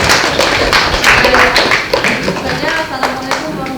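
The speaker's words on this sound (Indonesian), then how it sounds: "Kita beri tepuk tangan." A classroom group claps in a loose, dense burst of applause for a student group's performance. It sounds close and fairly loud, with a few taps and thumps mixed in and some voices in the background.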